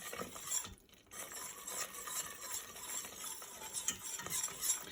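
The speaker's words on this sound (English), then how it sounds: "So you wanna make sure you're constantly stirring." A spoon stirs continuously through a browning mixture in a pan, making quiet, rhythmic scraping and clicking strokes over a faint sizzle, with a short pause near the start.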